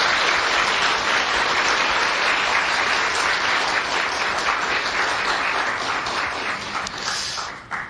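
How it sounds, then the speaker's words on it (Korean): A church congregation applauding, loud, dense and sustained clapping for nearly eight seconds that thins slightly at the end. "이분들께 감사의 박수 부탁드립니다."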